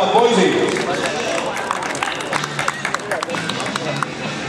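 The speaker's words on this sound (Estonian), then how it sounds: "Aplausi ja lähevad poisid." Spectators at an unmotorized vehicle downhill race clap and cheer outdoors, a scattered patter of applause in a crowd, with voices talking throughout.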